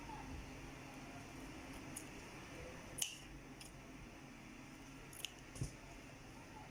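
Scissors cutting fabric for a homemade face mask: a few short crisp snips spaced apart at close range, over quiet room hiss.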